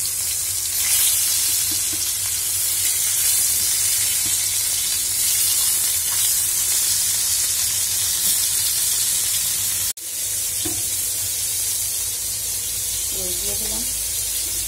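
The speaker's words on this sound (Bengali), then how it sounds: "আমার মাছ ভাজাটা শেষ।" Tilapia fish fries in oil in a home kitchen pan, giving a loud, continuous sizzle and hiss that runs unbroken, with a brief clatter and faint voices toward the end.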